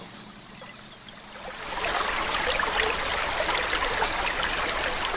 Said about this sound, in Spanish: Y otro con el sonido ambiente de un río.